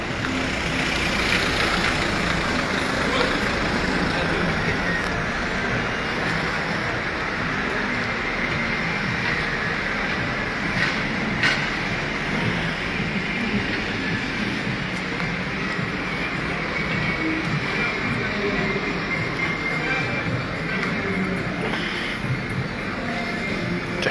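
On a Casablanca street at night, a tow truck hauls away a car that was parked on the sidewalk, its engine droning steadily and loudly throughout with no talking.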